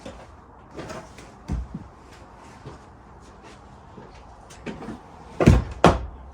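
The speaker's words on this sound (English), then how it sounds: "take this double seat out, lie it flat" A car's double seat is removed and folded flat, giving a series of muffled thumps, clunks and scraping knocks, irregular and close, ending in two heavier bangs.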